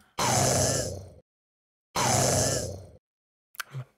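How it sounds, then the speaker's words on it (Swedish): Two loud, broad noisy blasts from a homemade cannon sound effect made in Audacity, about a second apart, each cutting off abruptly, followed by a shorter low thump near the end. "där har vi en ljudeffekt som får heta Canon Explodes"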